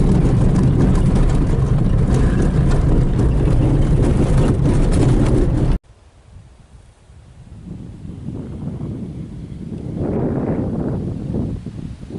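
A car drives slowly over a rocky mountain road in the Andes, first as loud, rumbling wind-buffeted noise close to the microphone, then as a quieter low crunching roll that gradually builds.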